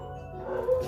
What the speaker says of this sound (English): That's my dog barking again.